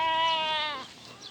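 A single sheep bleats once, a clear wavering cry close by that trails off, out on a hillside pasture with a flock grazing, with faint background noise and no talk.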